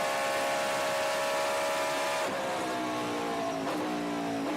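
A vintage race car speeds past on the straight at Circuit of the Americas, its loud high-revving engine holding a steady tone and then dropping in pitch as it passes, with no talk.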